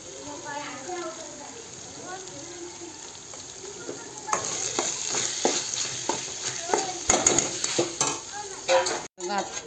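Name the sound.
stirring and frying tomato and capsicum for pav bhaji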